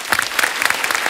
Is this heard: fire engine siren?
no